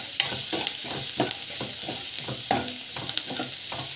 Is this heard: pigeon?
no